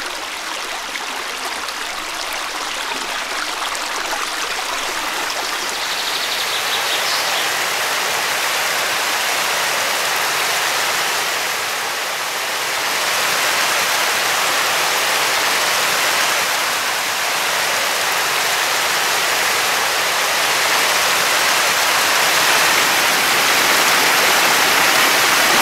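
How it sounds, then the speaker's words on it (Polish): The small mountain stream Czerwona Woda, a rust-coloured brook draining a peat bog in the Table Mountains, rushes steadily as a broad, even water roar, close and unbroken throughout. "przepływa niewielki potok Czerwona Woda, który swój początek bierze w okolicach wsi Karłów"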